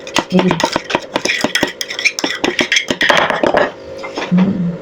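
A metal spoon clinks and scrapes quickly and repeatedly against a bowl while mixing spice masala into cut guava, close and bright, with someone talking over it.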